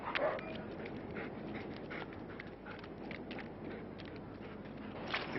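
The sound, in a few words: attack-trained dog struggling and panting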